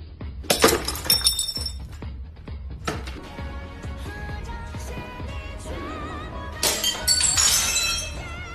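Glass beer bottles are broken open with an inch punch, with several sharp shattering cracks followed by tinkling shards, first in quick succession and then again in a loud burst near the end.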